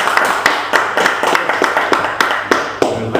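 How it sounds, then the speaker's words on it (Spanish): A small audience claps after a product presentation, producing a steady run of individual claps at a regular pace, fairly close and clear. "Un aplauso, don Juan Eduardo"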